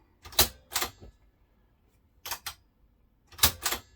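A faulty cassette tape deck mechanism clicking: three pairs of sharp mechanical clicks spaced about a second apart, close and crisp, with silence between.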